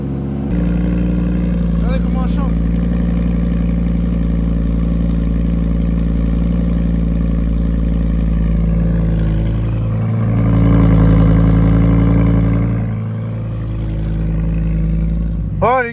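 A Lamborghini's engine idles loud and close with a steady deep rumble after finally being started, swelling briefly midway, while people talk excitedly over it.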